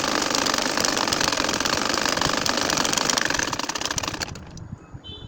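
A sewing machine stitching curved lines on a nakshi kantha, a fast continuous mechanical whirr close up that stops abruptly near the end.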